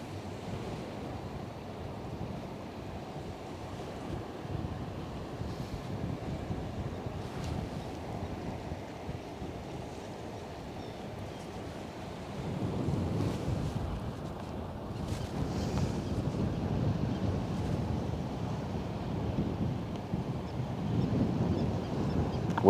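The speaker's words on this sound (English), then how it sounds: "Wind is definitely picking up a bit" Wind blows steadily across an estuary shoreline with surf in the background, a continuous broad rush that strengthens partway through and stays loud with no speech.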